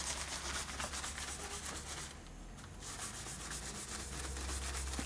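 Scrub pad rubbing rust off a 1988 Harley-Davidson FXR motorcycle part, a steady close-up abrasive scouring that runs continuously with a brief lighter pause midway.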